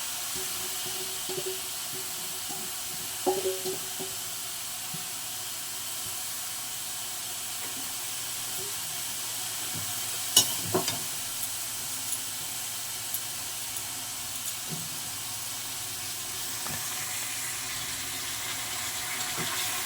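Grated carrots fry in desi ghee in a pan with a steady, soft sizzling hiss. A few small clicks and clatters sound near the middle, and no one speaks.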